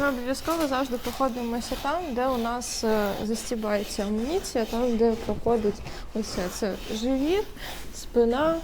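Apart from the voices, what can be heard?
No everyday noise stands out behind the speech.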